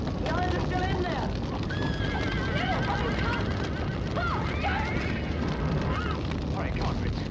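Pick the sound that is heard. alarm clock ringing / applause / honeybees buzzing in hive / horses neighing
horses neighing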